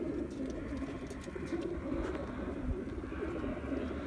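Pigeons coo steadily inside a purpose-built transport cage on a truck at a pigeon release point in Qassim, Saudi Arabia, a dense low murmur of many birds layered continuously throughout.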